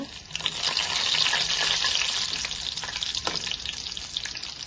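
Mustard seeds, urad dal and freshly crushed garlic fry in hot oil for a carrot and raw-dal curry, giving a steady, close crackling sizzle with faint stirring and scattered pops, no voices.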